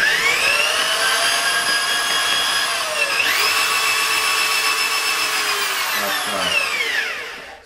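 An electric drain snake motor whines loudly and steadily up close, with a brief dip in pitch partway through before it spins back up and then winds down at the end.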